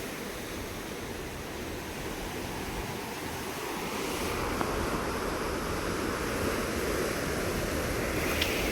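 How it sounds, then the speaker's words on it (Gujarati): Sea waves break and wash steadily along the rocky Chennai shoreline, a broad continuous roar of surf mixed with wind, with no voices. "તો જો આ ચેન્નાઈનો દરિયો છે."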